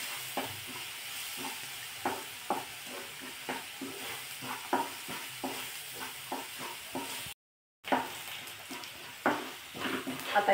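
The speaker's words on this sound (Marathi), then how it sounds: "आता हे तेलावर व्यवस्थित असं परतून घ्यायचं आहे" A fenugreek methi pithla mixture sautéing in oil, with a steady sizzle under frequent rhythmic stirring scrapes and taps against the pan and a brief silent gap partway through.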